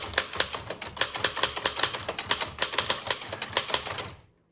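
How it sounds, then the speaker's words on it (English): Rapid keystrokes on a 1902 Smith Premier No. 2 typewriter typing lowercase sentences, a dense run of sharp close clacks at an uneven quick pace, stopping cleanly at the end. "let's try some sentences. So I'm going to do all lowercase"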